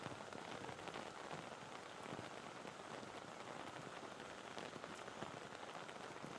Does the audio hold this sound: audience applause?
no